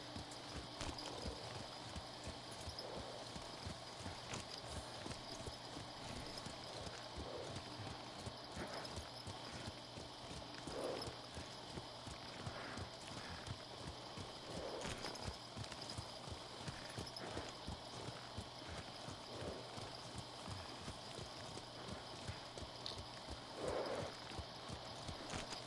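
A horse gallops steadily in the video game Ghost of Tsushima, its hooves clip-clopping in a fast, even rhythm that runs nonstop over low ambient sound.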